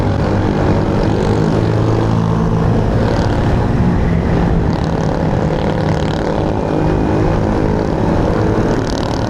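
A motorcycle engine strains hard while climbing uphill, a loud, continuous, close roar with wind rush that holds steady throughout.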